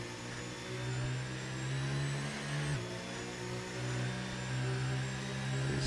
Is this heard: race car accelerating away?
yes